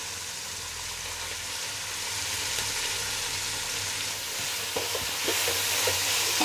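Chopped onions frying in a pan for chicken biryani, an even moderate sizzle joined later by scraping stirring strokes, no voices.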